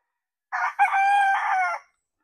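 A white Kelso gamecock rooster crows once, close and loud, with a short opening note rising into a long, strained, harmonic call that lasts just over a second and then stops cleanly.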